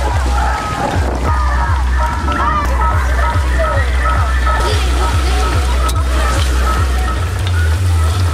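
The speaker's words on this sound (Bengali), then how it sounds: "চিকেন চাপের জন্য চিকেনের পিসগুলো ভেজে নেব" Chicken pieces fry in hot oil in a wok at an outdoor riverside family picnic, giving a steady, close sizzle with a low rhythmic thumping underneath while several people talk nearby throughout.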